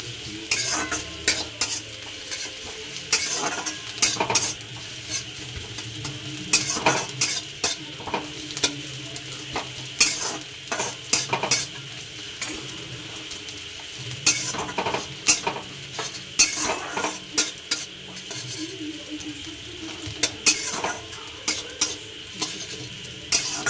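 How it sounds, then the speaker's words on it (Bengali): Onion sizzles and fries in a pan for Mughlai paratha while a utensil stirs and scrapes in a quick, irregular rhythm, close and fairly loud, with no talk. "পেঁয়াজটা একটু ভাজা হয়ে যায়।"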